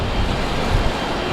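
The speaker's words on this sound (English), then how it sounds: "So it's still a lot of cars out here in the queue." Steady low rumble of road traffic with cars idling and creeping in a queue, a continuous dense wash of engine and tyre noise, fairly loud and close with no voices.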